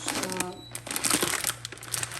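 A plastic bag of pasta crinkles in short, crisp bursts in a home kitchen, close and fairly loud, with faint background voice under the rustling.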